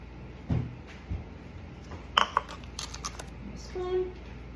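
A small bowl and spoon are handled in a kitchen while preparing a plant-based lunch, giving scattered light clinks and taps of dishware with a short ringing ting near the end, close by, amid quiet room noise.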